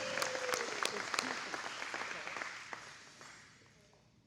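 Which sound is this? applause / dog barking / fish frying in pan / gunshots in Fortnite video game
applause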